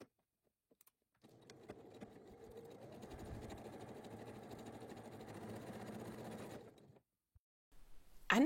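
A sewing machine stitches a side seam on a large fabric tote shopper bag, running steadily for about six seconds at moderate, close volume before stopping; no talk is heard.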